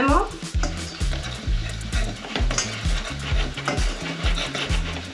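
Paprika is stirred into fried garlic and ham in a pan for traditional garlic soup: repeated rhythmic scrapes and knocks of a utensil over a steady sizzle, close and fairly loud.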